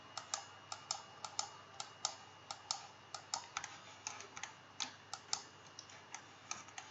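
A computer keyboard clicks in a quick, irregular string of crisp key presses close by, with light gaps between taps and a quiet background.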